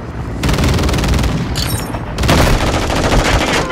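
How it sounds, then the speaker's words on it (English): Sustained heavy gunfire in a video game, dense overlapping automatic bursts that stay loud and close throughout with a brief lull in the middle. "Taking effective fire."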